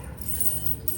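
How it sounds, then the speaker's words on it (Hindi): A padlock and its keys are handled and unlocked, with small metallic jangles and clicks standing out close by over a steady background hum. "ताला पकड़ें सुबह। खुल गया खुल गया।"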